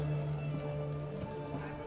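A horse gallops in The Witcher 3: Hearts of Stone, with rhythmic hoof clip-clops over a low droning game background for a couple of seconds.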